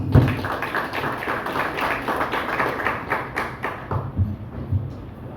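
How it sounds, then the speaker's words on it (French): An audience at a union anniversary ceremony applauds an honoree, a lively burst of many hands clapping with some heavier thumps, sustained, then thinning out toward the end. "Sous vos applaudissements."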